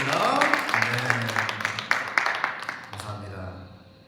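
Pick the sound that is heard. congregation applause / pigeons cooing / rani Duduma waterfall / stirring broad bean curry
congregation applause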